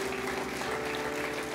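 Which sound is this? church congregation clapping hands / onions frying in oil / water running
church congregation clapping hands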